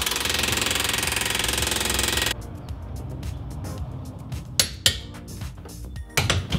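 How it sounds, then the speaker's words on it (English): Cordless impact wrench on its 150 setting tightening strut nuts on a Shelby GT350 during a lowering spring install, a loud sustained buzzing rattle for about two seconds, then scattered clanks and sharp metallic knocks of tools in a garage. "I'm gonna hit it with the 150 setting on the impact wrench"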